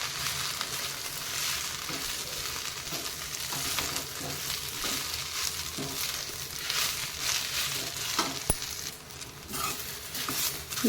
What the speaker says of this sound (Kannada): ನೋಡಿ, ಇದು ಈಗ ಹೇಗೆ ಫ್ರೈ ಆಗ್ತಾಯಿದೆ ಎಣ್ಣೆಯಲ್ಲಿ